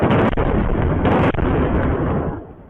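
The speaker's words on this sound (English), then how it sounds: "Israel launched a barrage of airstrikes on Tehran" Airstrikes on Tehran set off loud, sustained rumbling blasts with sharp bursts, heavy and booming, before the roar fades away toward the end.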